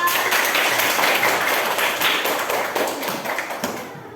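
A class of third-grade primary school pupils clapping together in the classroom, a dense burst of many small hands close by, steady and then tapering off.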